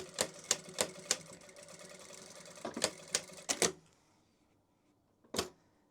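A sewing machine tacks fabric for a glasses case. Close, rapid clattering bursts of stitching run for about three and a half seconds, then after a pause comes one more short burst.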